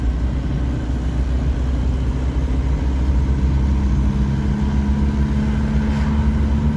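A SEAT 1500 with a twin-choke carburettor runs at low revs, a loud, steady, deep engine hum and drone with no break, heard from close by.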